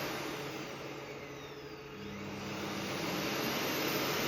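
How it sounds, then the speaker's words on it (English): Robot vacuum emptying station running indoors, a loud steady broadband whoosh of suction that swells slightly and grows stronger toward the end, with a low hum joining midway; no talking. "the noise of the emptying station"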